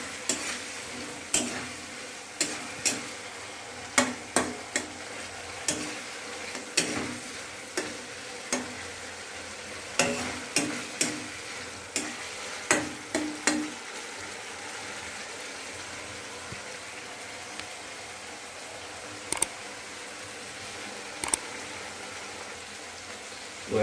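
Shrimp fry in a spiced masala with a continuous sizzle, broken by repeated sharp scrapes and clatters of stirring spread across the stretch.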